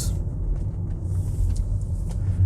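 A 2011 Mercedes C220 CDI W204 diesel saloon drives along a forest road, its engine and tyres making a steady low rumble with faint higher wind or road hiss, and no talking.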